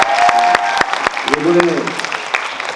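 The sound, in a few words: audience applause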